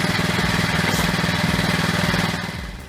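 A homemade firewood splitter's engine chugs steadily with a loud, rhythmic pulsing drone, then begins to fade toward the end.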